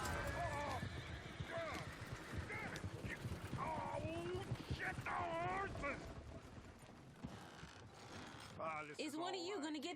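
Horse hooves clopping and a horse neighing in the video game Red Dead Redemption 2, heard under near-constant character dialogue and game sounds, with a whinny standing out toward the end.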